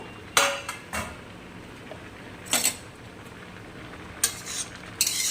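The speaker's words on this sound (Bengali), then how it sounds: "এবারে ঢাকনাটা তুলে নেব" A lid comes off a cooking pot of mung dal with water spinach, heard as a few sharp metallic clinks and scrapes spaced out over a quiet background with a faint simmer.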